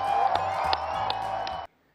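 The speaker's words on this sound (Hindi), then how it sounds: "दिल से तालियां बजाए अपने लिए" Crowd at a political rally in Lahore clapping and cheering steadily for under two seconds, loud and dense, then cutting off abruptly into near silence.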